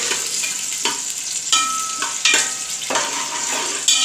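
Oil and chopped onion crackling in a hot pan while mutton paya is being prepared, a loud close sizzle with several sharp stirring scrapes at a steady rhythm, and no voices.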